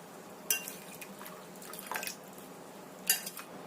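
Freshly boiled food lifted out and set to drain, with a few sharp drips and small splashes of water, louder knocks near the start and end, and quieter trickling between them in a home kitchen.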